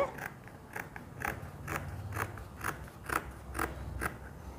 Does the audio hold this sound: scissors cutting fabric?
yes